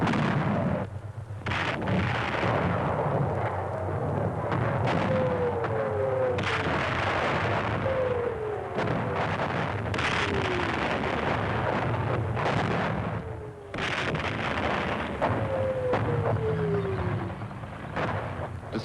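A heavy German artillery barrage of World War II in the Ardennes, as a documentary soundtrack: a steady dense rumble of distant gunfire with repeated whistling shells dropping in pitch, continuous and rather loud, no voices.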